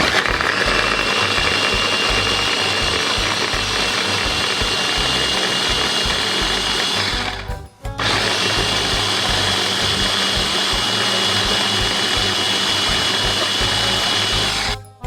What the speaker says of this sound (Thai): หลังจากนั้นปั่นกันค่ะ